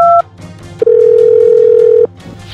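An incoming call sounds on a telephone as loud electronic tones: a short two-note beep, then a single sustained tone of just over a second, with no talk.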